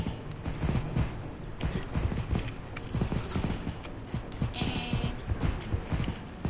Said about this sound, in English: Oh, it's just our footsteps.